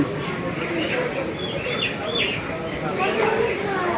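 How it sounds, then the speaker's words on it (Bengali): Chickens cluck and chirp amid the steady clamour of a busy poultry market in Gopalganj, with voices talking throughout. "তবে এটাকে বলা যেতে পারে মুরগি পট্টি"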